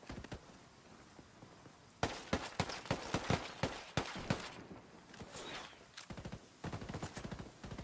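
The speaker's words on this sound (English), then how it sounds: "taking fire! Hostiles are going loud." Gunfire crackles in a Ghost Recon Wildlands multiplayer match, with rapid bursts of automatic shots in quick succession separated by brief pauses, moderately close and without voices.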